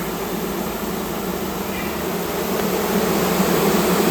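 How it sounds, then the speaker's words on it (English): A steady, dense buzzing of many honeybees at a hive, fanning their wings to cool it, close and continuous, with a constant drone of wings throughout and no pauses. "See how they're flapping their wings a lot?"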